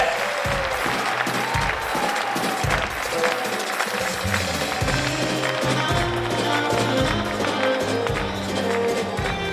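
Applause from the audience at the Best of Rumeli 2023 awards ceremony: dense, continuous clapping mixed with crowd noise and rhythmic thumps, loud throughout.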